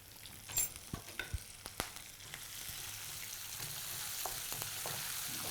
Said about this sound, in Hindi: ना वड़ा पाव के अंदर जो लहसुन या अदरक हमने डाला है उसे हमें ब्राउन नहीं करना, we have to just give it a quick stir